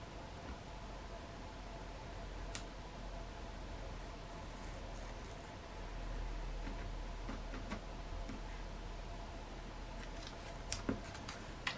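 A craft blade cuts paper with faint scratchy scraping and a few sharp ticks and snips over a quiet hiss, close and soft throughout, with no speech.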